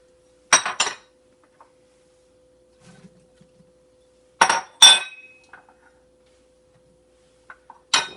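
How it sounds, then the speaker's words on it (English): Cutlery clinks against a dish while vegetables and potatoes are mixed, a few sharp scraping clatters in separated bursts with quiet gaps between, fairly close and with no voices. "Mix in most of the potatoes,"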